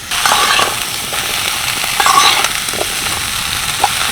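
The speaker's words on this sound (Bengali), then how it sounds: "প্রায় দুই থেকে আড়াই মিনিট মতো ভালোভাবে একটু নেড়ে চেড়ে নিলাম" Raw mango pickle is stirred in a hot pan, giving a loud continuous sizzle with scraping strokes of a spoon against the pan throughout, close and with no voices.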